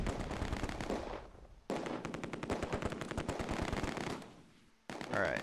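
In the Close Combat II war game, an MG42 machine gun rattles off long rapid bursts separated by short gaps, loud and close, with a brief sharp cut near the end.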